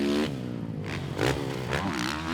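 A 2016 Yamaha YZ450F motocross bike with a GYTR engine setup revs hard and loud up close, its engine pitch climbing, dipping and rising again in a steady roar with no talking.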